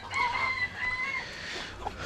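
A Blue Brahma rooster crows once from a backyard coop, its drawn-out call fairly close but moderate in volume, followed by faint clucking and scattered farmyard noise.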